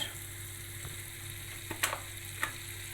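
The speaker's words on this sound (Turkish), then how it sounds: "Bir ölçü tereyağımızı tenceremize bıraktık. Tamamen eriyene kadar." Quiet, steady sizzling of butter melting in a pot, with a few soft crackles and pops popping up now and then.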